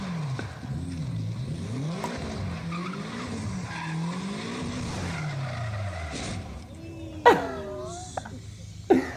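A street-drifting car, apparently a BMW, slides with a wavering tire squeal and engine drone over steady background noise, ending with a couple of sharp, loud bursts near the close.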